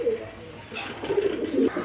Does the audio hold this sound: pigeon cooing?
yes